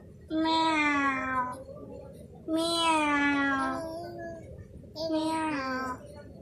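A cat meows three times, each a drawn-out, tonal wail lasting over a second, separated by short pauses; close and clear, with no talking over them.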